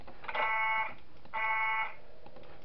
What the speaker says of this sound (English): I'm getting rid of her with the alarm.